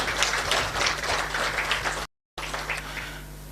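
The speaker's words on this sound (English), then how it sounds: "A clap for her." An audience at a public launch event applauds for Honorable Alice Wahome with a continuous, moderately distant patter of many hands over a low steady hum, cut by a brief dropout in the middle.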